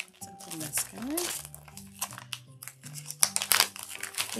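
Crinkling paper as a collectible Christmas kit package is unwrapped, with rustles and crunches scattered through the clip under a person talking.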